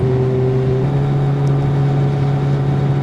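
A Suzuki GSXR750 motorcycle engine hums on the move at a steady, loud drone with a constant low tone and rushing wind, its pitch shifting slightly once, with no talk.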